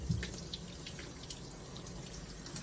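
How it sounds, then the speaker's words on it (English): Cold tap water runs steadily into a kitchen sink while shrimp are deveined, a constant close splashing hiss with faint drips and no talk. "And so you just run the water, cold water"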